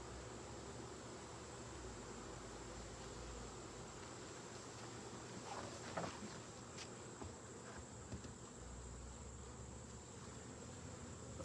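Honeybees buzz steadily around an opened beehive during a honey check, a continuous low, even drone heard up close with a few faint handling knocks partway through.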